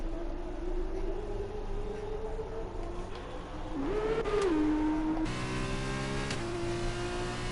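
Racing car engines roar in a racing video game on a Mexico circuit, a steady high whine with a car shifting pitch and revving past, layered over continuous engine drone.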